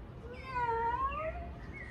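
A person's voice imitates a cat, drawing out one clear, wavering meow that rises and falls, fairly quiet and heard alone over a soft background during a children's yoga class.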